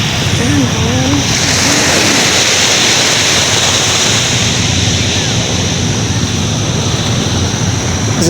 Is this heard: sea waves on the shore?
yes